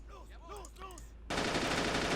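In the Men of War: Assault Squad 2 game, a voice with pitch-swept tones gives way to a sudden, dense, loud burst of rapid machine gun fire that continues steadily to the end.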